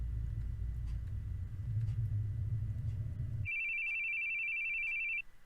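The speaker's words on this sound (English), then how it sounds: "Now he hears the phone calls." A telephone rings in The Boogie Man video game, a steady electronic trill that starts partway through after a low rumbling drone cuts off, then rings alone until near the end.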